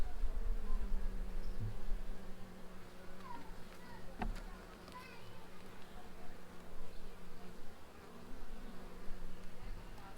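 A dense, continuous buzzing of many honey bees in a hive in Jamaica fills the scene, close and steady, with a brief sharp tap partway through.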